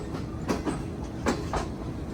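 The Shalimar Express rolls onto a double track on the Lahore to Karachi line, heard from inside an AC parlour car. Steady rumbling carries through, with rhythmic clickety-clack wheel beats over the rail joints.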